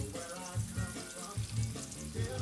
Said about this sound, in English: You gotta wait till it sizzles.